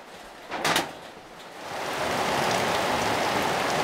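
Steady rain hiss that thickens and grows louder after a couple of seconds, with a brief knock or clatter near the start.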